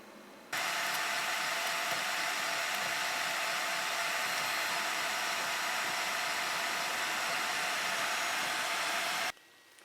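A laser burns the resist off a flipped PCB in a DIY etching setup. A loud, steady whooshing roar starts abruptly, holds evenly for about nine seconds, then cuts off sharply.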